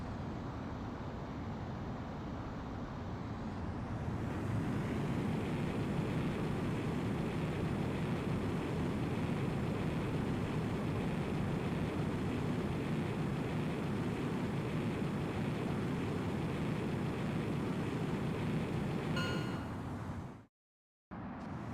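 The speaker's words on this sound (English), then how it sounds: "Griffith 1, you are cleared for takeoff." A fighter jet in Ace Combat X spools up from a low whine into a loud, steady roar as it takes off, holding that roar for over fifteen seconds before cutting out abruptly.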